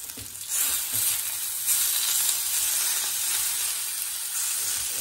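Eggplant cooking in a pan on low gas: a loud, steady, close hiss of sizzling oil fills the whole stretch, with faint stirring clatter beneath.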